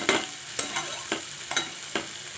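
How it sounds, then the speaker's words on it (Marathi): Spiced green pea thecha being stirred and sautéed in oil, with about five distinct scraping spoon strokes over a soft, close sizzle, quiet and without voices. "आता चांगलं मिक्स करून घ्यायचं तेलामध्ये मस्तपैकी असं परतून घ्यायचं"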